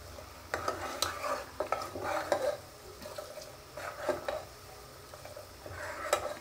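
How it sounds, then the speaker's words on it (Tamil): Food is stirred in a cooking pot with a utensil, giving soft, uneven bursts of scraping and light sizzling at close range, with no talking. "இப்படி கிண்டிட்டே இருக்கணும் ஒரு ஸ்டேஜுக்கு அப்புறம்."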